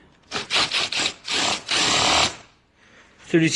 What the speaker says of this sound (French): ici, une douille de 8 ou clé de 8, vous le dévissez légèrement